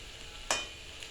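Mixed vegetables fry quietly in a pan after salt and turmeric powder are added, a soft steady sizzle broken by one sharp scraping stir of the spatula.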